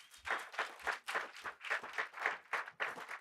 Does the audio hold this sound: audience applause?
yes